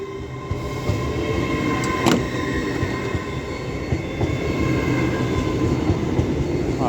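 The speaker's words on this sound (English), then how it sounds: "And now departing is 801 210 with the 1311 LNER Azuma to" An LNER Azuma class 801 train pulls out of Doncaster station, producing a steady rolling rumble with wheel squeal and a brief sharp screech partway through, loud and close with no talking.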